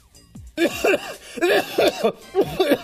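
A man coughs repeatedly in a comic spoof, with several harsh bursts in an uneven rhythm, close and loud, followed by throaty, laugh-like hacking.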